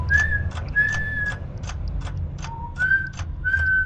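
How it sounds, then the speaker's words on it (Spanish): A whistled melody in sustained, clear tones, repeated in short phrases over a low steady backing, forming the chorus chords of a song. "Se escuchan también los acordes silbados del estribillo."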